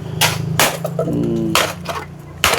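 Hammer smashing aluminium cans by hand, several loud sharp metallic bangs at an uneven pace with ringing between strikes, close up and alone.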